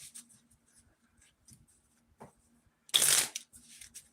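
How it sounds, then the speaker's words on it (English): A deck of tarot cards is shuffled in a quiet room, with soft scattered handling taps followed by one loud, brief riffle near the end. "Let's do a couple of shuffles."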